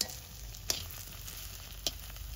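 Tengra fish frying in a pan with sour leaves and green chilli gives a steady bright sizzle, with a few sharper crackles and stirring clicks breaking through, close up and with no talking.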